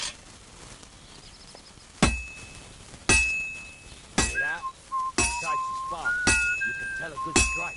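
Hammer blows ring out on hot metal at an anvil in a medieval forge in Kingdom Come: Deliverance 2, five or six sharp metallic clangs spaced about a second apart, each leaving a bright lingering tone, over a quiet workshop background.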